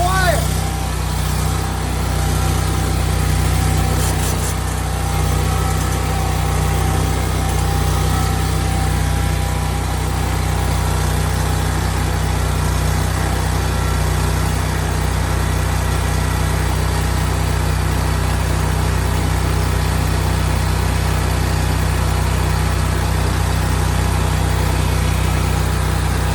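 A new ESAB 270G engine-driven welder runs at a steady, even idle on its first start. The low engine hum holds unchanged throughout while people talk near it.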